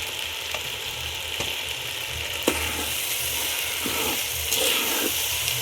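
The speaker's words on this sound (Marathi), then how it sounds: "तर आता तांदूळ सर्व मसाले फ्राय झालेत आपले" Rice and spices fry in a pot over a wood-fired stove for mutton biryani, giving a steady close sizzle with a few sharp utensil clicks and scrapes and no talk.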